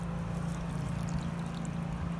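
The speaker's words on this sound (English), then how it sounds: "I'm gonna pour this over all of our veggies and nuts and seeds." Whisked dressing is poured over raw slaw vegetables, nuts and seeds, a soft continuous liquid trickle over a steady low background hum, no speech.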